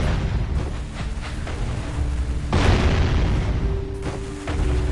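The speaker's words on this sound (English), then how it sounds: "Or, we can actually use the cannon." Cannon fire in the Jak and Daxter video game: a loud booming blast with a sharp onset, followed by a rumbling tail and a second burst near the end over a dense game soundscape.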